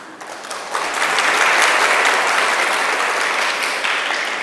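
An audience claps together to welcome itself at a Mangal Aarti gathering, a dense, continuous round of applause that swells after a moment and holds steady.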